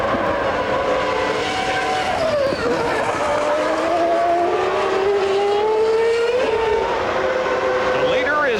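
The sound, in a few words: Formula One race cars, 1995 Canadian Grand Prix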